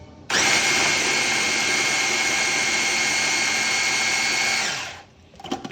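A food processor whirs loud and steady for about five seconds while blending vegan crab cake mixture, starting abruptly and spinning down at the end.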